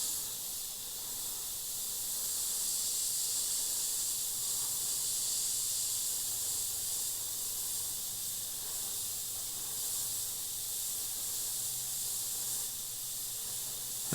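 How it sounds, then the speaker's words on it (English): An airbrush sprays black paint in a continuous soft, airy hiss, steady and close throughout with slight swells in loudness, no talking. "So I'm going to add in some black and do some freehand airbrushing"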